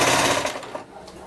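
Sewing machine running a simple stitch on knit fabric for a long flowing dress, a steady rapid whirring hum close by that eases off toward the end.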